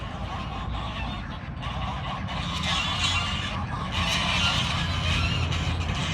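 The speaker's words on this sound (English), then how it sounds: "damn geese, we got a train over there of them latched to each other" Geese honking steadily from a flock nearby on a small farm, a continuous noisy chorus of overlapping calls mixed with broadband outdoor noise, getting slightly louder toward the end.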